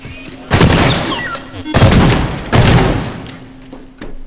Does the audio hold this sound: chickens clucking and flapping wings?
no